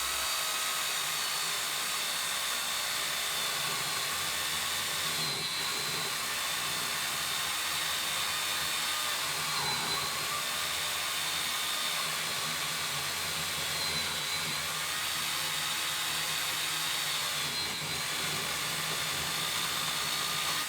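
A Parkside 20V battery chainsaw with a freshly sharpened chain cuts through wood, giving a loud, continuous motor whine and hiss that holds steady for about twenty seconds with no one talking.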